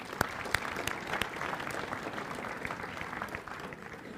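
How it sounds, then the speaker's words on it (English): A synagogue congregation at Yom Kippur afternoon services claps together in steady, moderately loud applause that carries on for about four seconds, slowly thinning toward the end. "let's give ourselves a round of applause for that"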